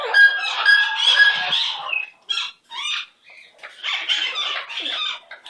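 A pet bird gives a run of squawky, chattering calls, some raspy and some clucking, in short close bursts with brief pauses, loud and clear with no talk over it.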